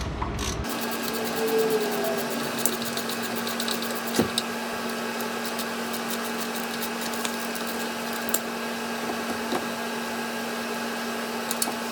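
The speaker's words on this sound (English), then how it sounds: "there are two bolts that require an 18mm wrench or socket to remove" A wrench or socket loosening the 18mm brake caliper bolts on a 2004 Jeep Grand Cherokee: scattered ratcheting clicks and sharp metallic ticks over a steady mechanical drone, close and fairly loud.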